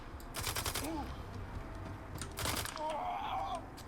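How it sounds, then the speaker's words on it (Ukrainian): Gunfire in STALKER 2, two short bursts of rapid shots about two seconds apart, fairly faint against a low ambient background. "Ану, давайте постріляємось щоб хоч трохи веселіше було оглядати порожні локації."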